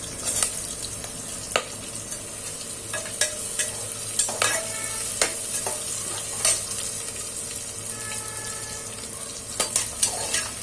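Curry leaves and potato sizzle in hot oil for dal khichdi, a steady fry hiss broken by scattered sharp clicks and pops of a spoon stirring in the pan.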